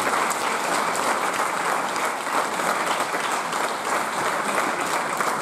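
Audience applause at a year-end show of a folk dance and folk music school: sustained, dense clapping from a large crowd, steady and fairly loud throughout with no break.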